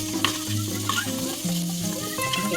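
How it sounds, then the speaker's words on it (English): Onions and mixed vegetables for fried rice sizzle steadily in a hot pan, close and continuous, with occasional scraping stirs and no talking. "Okay, so let's saute this for 5 minutes."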